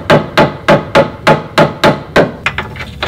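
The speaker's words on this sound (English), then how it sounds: "You'll want to use a rubber mallet and a screwdriver to help get everything aligned correctly." A rubber mallet strikes a lower control arm on a 2006–2011 eighth-generation Honda Civic Si, ringing out as eight evenly spaced, sharp, close taps followed by a few lighter, quicker hits.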